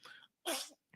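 A single close sneeze, a short breathy intake followed by a sharp burst of air, in a quiet indoor setting during a casual conversation.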